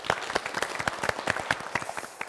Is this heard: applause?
yes